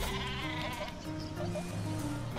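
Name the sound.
sheep bleating in the video game Worms Battlegrounds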